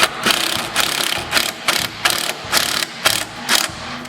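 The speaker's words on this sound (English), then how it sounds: "for this other one, I'm going to use a 1/4 inch self-tapper" A ratchet drives a 1/4 inch self-tapping screw on a Cub Cadet Zero mower, about nine sharp, evenly spaced clicking strokes, close and clear with no talk.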